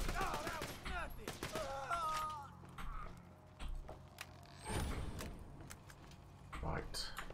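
Video game gunfire crackles in rapid bursts near the start and again around the middle, mixed with clattering effects and game sounds, while a player talks over it.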